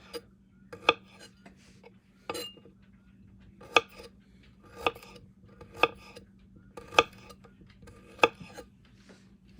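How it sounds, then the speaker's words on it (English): Knife chopping fresh turmeric root into thin rings on a cutting board, with sharp, evenly spaced thunks about once a second over a steady low kitchen hum, close and clear. "this is the turmeric root, and we're just going to slice it in little rings"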